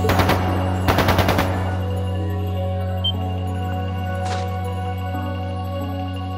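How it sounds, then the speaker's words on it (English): Rapid bursts of automatic gunfire ring out in the video game Trails of Cold Steel II, two short rattling volleys near the start over a steady low musical drone, followed by a lone distant report. "That didn't sound good. That sounded like gunfire."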